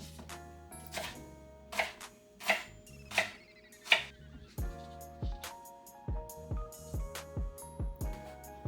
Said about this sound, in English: You want to cut up the onion, cut it in slices.